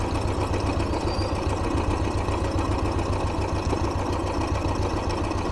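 A Royal Enfield Bullet motorcycle engine idles steadily after a valve adjustment, a loud, even thumping beat running close and constant throughout.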